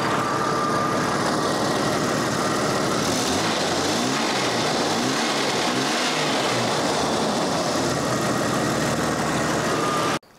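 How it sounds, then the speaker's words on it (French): A Jeep Cherokee engine runs steadily nearby, and its pitch rises and falls as the throttle is blipped a few times. The engine keeps droning continuously, then cuts off abruptly at the end. "On va l'accélérer un peu, écoute."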